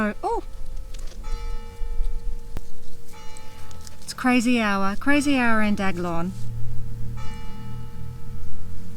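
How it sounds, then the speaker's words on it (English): A church bell at St. Martin's church tolls at midday with long ringing tones while people talk over it. "That's St. Martin's church bell tolling at midday"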